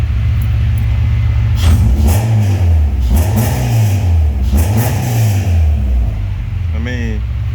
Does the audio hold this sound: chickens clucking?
no